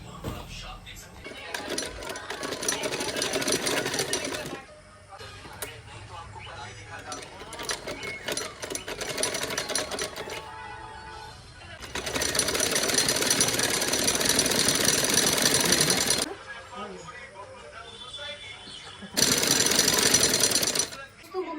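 A domestic sewing machine stitches a suit in three long loud runs with quieter stretches between them, where hands handle fabric and someone speaks briefly.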